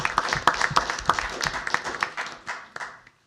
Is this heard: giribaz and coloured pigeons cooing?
no